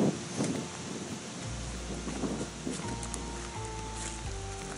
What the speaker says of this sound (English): That wind's not going to let me do that.